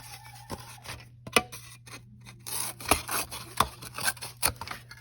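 Scissors trimming a foam sheet down for a printing plate, with a quick series of close, crisp snips and rubbing cuts over quiet room hum.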